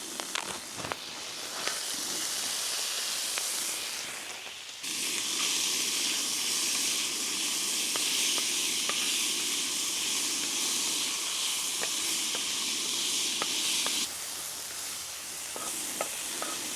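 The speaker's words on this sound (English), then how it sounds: "put my potatoes on there and let the bacon and potatoes and grease all cook together" Bacon and potatoes sizzle together in grease on a flame-heated scottle outdoors, a steady loud frying hiss running throughout with a brief dip near the start and small crackles and scraping clicks.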